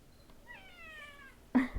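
A cat meows once, a drawn-out rising and falling call, followed by a brief soft thump, fairly close with quiet room tone around it.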